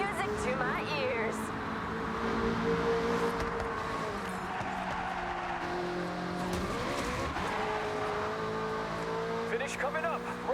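Racing-game cars roar with steady engine drone and repeated tire skids and squeals, loud and continuous throughout, with a voice talking over the action at times.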